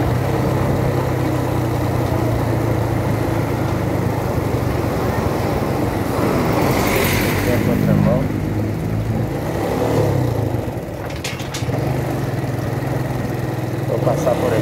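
A motorcycle engine runs steadily at close range, rumbling and revving as it rides through the Botafogo 2 neighborhood, with wind noise throughout.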